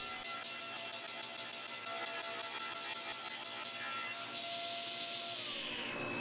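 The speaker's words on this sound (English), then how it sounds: "then I could slice it up on the table saw" Table saw slicing through a glued, planed hardwood panel for an end grain cutting board: a steady, loud whining cut that holds for about four seconds, then shifts pitch as the blade exits and winds down, with no talk.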